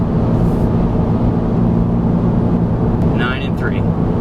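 A 2022 Subaru BRZ's engine pulls at wide open throttle, heard from inside the cabin as a loud, constant low roar with a brief voice over it near the end.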